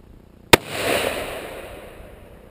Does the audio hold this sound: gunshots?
yes